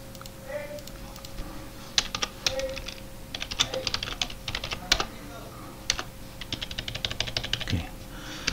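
Typing on a computer keyboard, irregular bursts of close, crisp key clicks over a steady low hum while text is entered, with brief pauses between runs of keystrokes.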